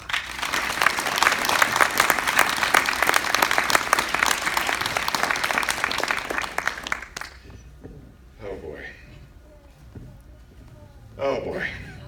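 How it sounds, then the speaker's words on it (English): A live panel-event audience applauds a guest named Zack Kaplan, dense, loud clapping filling the first seven seconds, then cutting off into quieter room sound with brief voices talking. "Please give a warm round of applause all the way from Krypton, Los Angeles"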